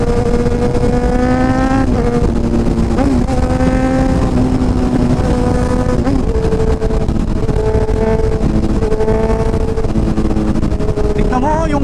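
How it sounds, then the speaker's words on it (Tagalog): A Ferrari sports car on the Marilaque mountain road, its engine note holding loud, steady tones that rise and shift through gear changes as it runs close by for the whole stretch. "Ganda ng Ferrari na to"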